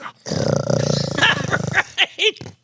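A man imitates a growl with his voice, a rough, rumbling sustained snarl close to the mic, followed by a few short grunting vocal bursts.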